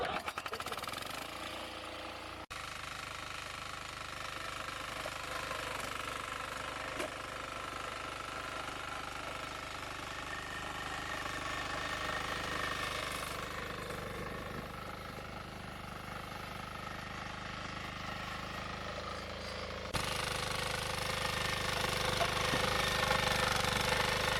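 A Kisan Kraft 350D farm machine used for earthing up ginger runs steadily and loudly throughout, a rough mechanical drone with rattling knocks and a slight rise in intensity toward the end.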